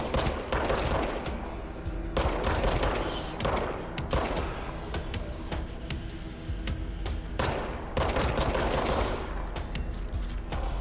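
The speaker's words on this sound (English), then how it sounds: "I'm getting shot at." Enemy gunfire in the video game Control, dense bursts of rapid shots and automatic fire in repeated waves, loud and close, with brief lulls between volleys.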